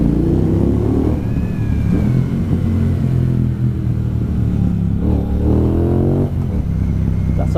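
A brand new motorcycle engine revs inside a tunnel, several loud throttle blips rising and falling with a reverberant roar and clattering idle between them, close and alone with no voices.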